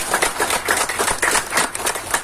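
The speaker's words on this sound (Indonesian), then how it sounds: "Jadi tepuk tangan untuk Pak Arif" Applause from a gathered crowd honouring Pak Arif at a farewell event for the Indonesian ambassador to Brunei, a steady patter of many hands clapping with irregular swells, fairly close and continuous.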